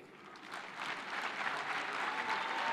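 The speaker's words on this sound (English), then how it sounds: "Another round for applause to Irungu Kang'ata." Sustained audience applause fills a devolution conference hall, a dense steady clapping that swells slightly and stays loud throughout with no voices over it.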